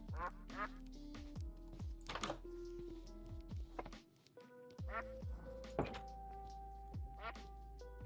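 Ducks in the block-built survival game TerraFirmaCraft quack repeatedly in loud, overlapping bursts at sunrise, mixed with blunt thunking game sounds and a steady synthetic tone underneath.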